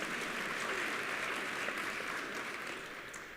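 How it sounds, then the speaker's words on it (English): Audience applause at a national conference panel session: a steady, dense wash of clapping from a crowd heard at moderate distance, continuous throughout and easing slightly toward the end, with no speech over it. "I think someone wanted to applaud."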